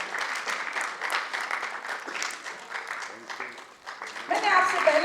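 An audience at a theatre play claps steadily under a person speaking, and the applause swells louder near the end.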